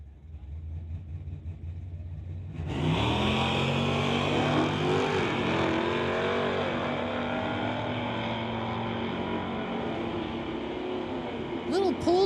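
A 1978 Malibu and a 2019 Dodge with a 392 Hemi launch in a drag race, a loud, steady engine roar rising abruptly and holding for about ten seconds, with voices underneath.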